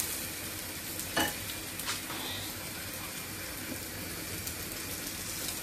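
Eggplant fries in oil with a steady, close sizzle, while a few light clinks of a utensil break in over the continuous crackle.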